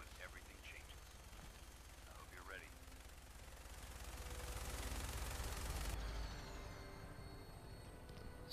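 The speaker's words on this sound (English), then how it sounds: "Look at all the bullets flying." Fallout 4 video game gunfire, fast automatic bursts rattling at moderate distance and rising to a denser stretch midway, fairly quiet overall.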